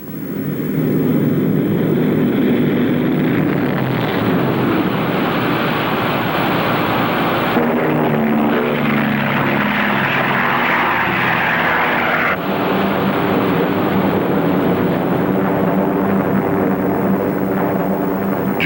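World War II bomber engines give a loud, continuous, droning roar that holds steady throughout, like a formation of heavy propeller aircraft passing overhead, with no talk.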